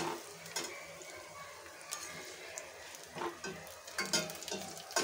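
Garlic frying in oil, a soft continuous sizzle with intermittent scraping stirs of a spoon in the pan, fairly quiet and close, without talking.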